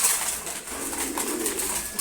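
Pigeons coo softly from a loft where paired birds are kept, low rolling calls repeating close by over a faint background hiss, with no voices.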